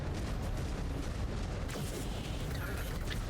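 Heavy weapon fire from an Executioner assault mech in a MechWarrior game strikes an enemy mech's center torso, a dense, loud rumbling blast that runs continuously with a sharper impact burst partway through.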